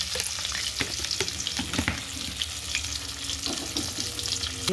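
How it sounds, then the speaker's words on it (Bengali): Four eggs frying in a wok with a little turmeric and salt, giving a steady close crackling sizzle with occasional sharper pops and spatula scrapes, no voices over it. "ডিম 4টে কড়াতে দিয়ে দিলাম, একটু হলুদ আর নুন দিয়ে একটু হালকা ভেজে নিই।"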